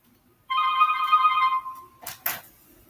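A telephone rings indoors with one long electronic trill lasting about a second and a half, then two short sharp bumps like the handset being picked up, with no one talking.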